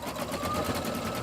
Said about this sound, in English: the first stitching it's going to do 2 minutes of white stitching